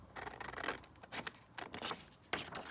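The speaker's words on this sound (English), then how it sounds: "let's just cut this one down" Scissors snip through paper pieces cut from old books for a collage board, giving a few close, crisp, uneven cuts with soft rustling between them and no voices.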